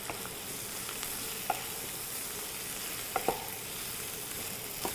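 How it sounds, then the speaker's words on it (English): Mushrooms fry in a pan, a constant soft sizzle with a few sharp clinks and scrapes of stirring breaking through now and then, close and without voices. "Let it fry up a little bit before you add the masala"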